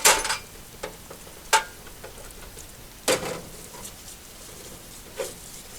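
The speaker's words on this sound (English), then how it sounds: "now we're ready for the parts washer" Solvent in a shop parts washer cleaning greasy, wire-brushed Wilton C2 bench vise parts, heard as wet splashing and sharp clinks of metal pieces at irregular intervals over a quiet hiss.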